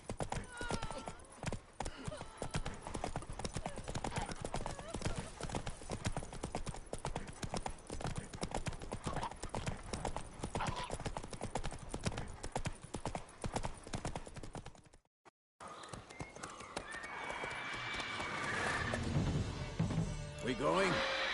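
Roach, a horse in The Witcher 3, trots with steady, brisk clip-clopping hooves throughout, with game voices talking over the hoofbeats and a brief silent gap near the end.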